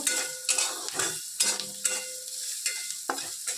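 Onions and curry leaves frying in a pan for semolina dosa, bright oily sizzle broken by repeated scraping stirs of a spatula, close and fairly loud with no voices.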